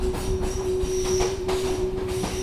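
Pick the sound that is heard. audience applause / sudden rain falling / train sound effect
train sound effect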